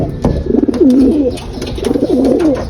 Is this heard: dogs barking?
no